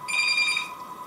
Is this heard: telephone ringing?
yes